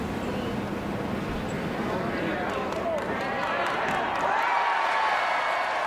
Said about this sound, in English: Crowd recognizing that and giving her a nice ovation as she comes up to the 18th green